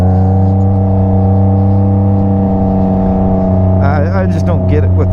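A 2021 Can-Am Ryker Rally with a loud aftermarket exhaust drones steadily while riding, a deep constant rumble close by, with a brief rising rev and wind buffeting near the end.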